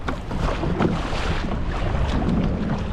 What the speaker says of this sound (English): After a couple of days of constant tailwind, a good dose of headwind was expected